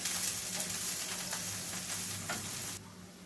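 Onions frying in a pan while being stirred, a quiet continuous sizzle with soft spoon scrapes that thins out near the end.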